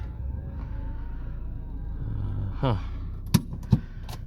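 A car driving toward Nairobi, its low engine rumble steady from inside the cabin, with a brief rising whine and a couple of sharp knocks or clicks near the end.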